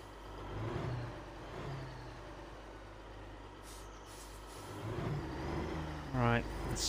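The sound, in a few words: truck air brake released in a trucking video game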